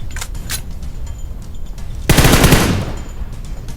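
Automatic gunfire from the mobile battle-royale game PUBG Mobile erupts in a loud, dense burst midway, preceded by a few sharper isolated shots over steady game ambience.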